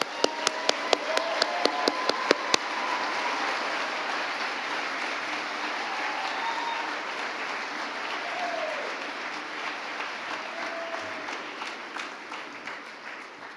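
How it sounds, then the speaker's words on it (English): Audience applause at a white coat ceremony: a few sharp individual claps at first, then steady broadband clapping from a crowd that holds for over ten seconds before thinning slightly toward the end. "Let's hear a round of applause."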